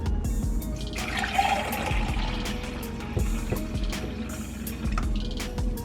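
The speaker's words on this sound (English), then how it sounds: "It's so funny to hear that shh and to see it bubbling." Steady liquid fizzing and bubbling of kombucha in a jar close by, with occasional soft pops and gurgles, continuous throughout with no voices.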